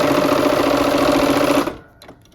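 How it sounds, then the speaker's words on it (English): A sewing machine runs steadily and loudly, stitching quilt squares into a line for a Give Thanks quilt, with a dense continuous whir for over a second and a half before stopping abruptly into near silence. "we're gonna go ahead and just sew these into a line together"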